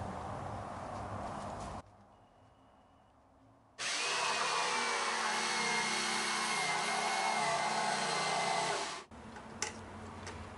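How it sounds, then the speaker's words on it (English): A jigsaw cuts a wooden armrest for an Adirondack chair along a traced line, a loud close buzzing rasp that runs, stops briefly, then starts again for a long steady cut before halting. "I'm just going to go ahead and follow this line with this jigsaw here."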